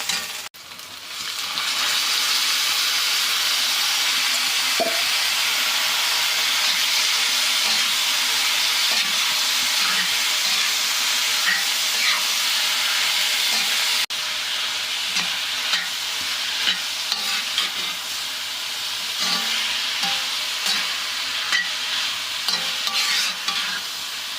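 Sliced bitter gourd sizzles loudly and continuously in a hot pan for a South Indian stir-fry, with a steady hiss and occasional scraping clinks of a spatula stirring it.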